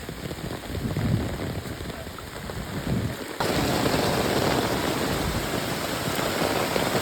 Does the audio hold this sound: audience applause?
no